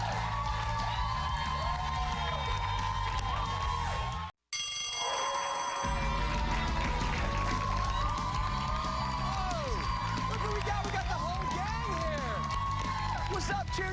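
A school cheer section at a Mastery Charter School students-versus-teachers basketball game, a loud crowd cheering and whooping continuously with a brief dropout partway through, while a voice talks over it.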